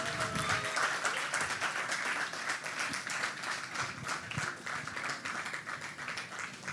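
Sustained applause from an audience at an awards ceremony during a kids' hackathon finale, a dense wash of claps at moderate distance, continuous and fairly even throughout.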